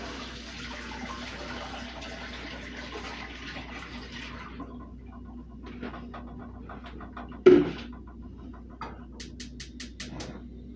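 Tap water runs and splashes into a canning pot being filled with about three quarts, a steady close rush that tapers off, followed by a sharp clunk and a few light knocks.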